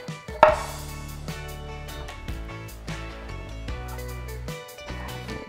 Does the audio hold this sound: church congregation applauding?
no